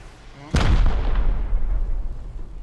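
Loud explosive blast with a deep booming low end from rockets fired during a raid in Rust, followed by a long rumbling decay, with a muffled voice underneath.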